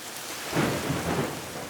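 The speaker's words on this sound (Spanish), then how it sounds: "estas tormentas suelen desatar breves pero intensos aguaceros, relámpagos y ocasionalmente granizo antes de disiparse al anochecer" Thunderstorm in Yellowstone with heavy rain hissing steadily on surfaces as low rolls of thunder swell and rumble twice beneath the downpour. No voices.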